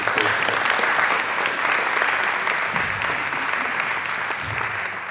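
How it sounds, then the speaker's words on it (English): Workshop audience giving a round of applause for history speakers, loud continuous clapping from a roomful of people, steady throughout with no talking over it. "Can we give a big round of applause for our history speakers?"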